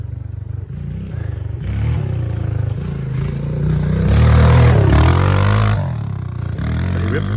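A Honda CRF125F dirt bike rides past on wet woodland trails, its engine rising from a steady drone to a loud, close revving pass, then easing off.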